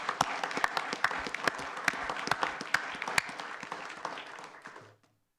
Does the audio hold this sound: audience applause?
yes